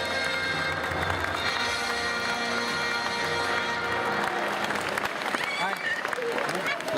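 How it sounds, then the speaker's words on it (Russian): Crowd applause at a Navruz celebration in Moscow, 2015, greeting leaders of national community groups: sustained clapping and some cheering from a large audience, with music or background voices blended in and no gaps. "Аплодисменты, друзья, встречаем!"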